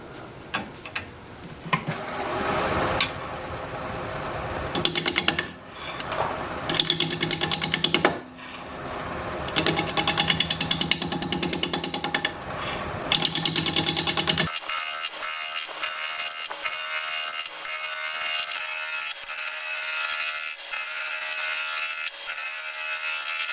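A wood lathe turns the corner of an oval wooden bowl: a loud, rapid chattering cut, with brief pauses and surges as the tool bites in, followed by an even, steady machine hum.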